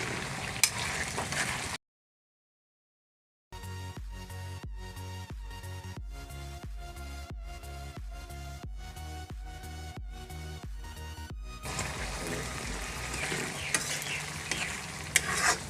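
Pork curry with small tomatoes, Assamese village style, sizzles in a pan while being stirred. A dense close frying hiss opens and closes the stretch, split by a short silent gap and a long rhythmic middle section.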